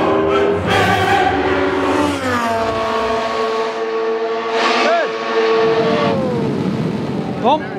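A race car engine on the Monza straight at sunset screams loud and close, its pitch climbing and then dropping in steps as it changes gears down before the chicane, with a brief rising whine near the end.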